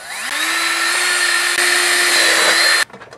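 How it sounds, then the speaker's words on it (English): A power drill boring bolt holes to mount a top box on a Honda NT700V motorcycle whirs steadily at a constant pitch for close to three seconds, loud and near, then cuts off abruptly with a brief clatter after. "while I drill these two inside forwardmost bolt holes"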